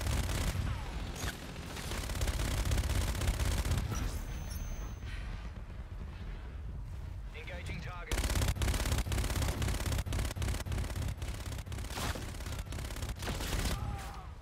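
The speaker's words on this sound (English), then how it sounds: "This thing is constantly firing as soon as it sees an enemy." An automated Warden scorestreak turret in a Call of Duty game fires in sustained, dense bursts, with a brief lull midway before loud rapid fire resumes amid other battlefield gunfire and booms.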